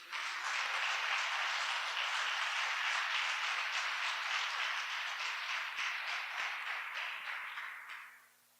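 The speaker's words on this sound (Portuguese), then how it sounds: "Dá um aplauso para Jesus." Applause ripples through a church congregation, a broad sustained patter of many hands clapping at moderate distance, steady for several seconds and then tapering off quickly into silence.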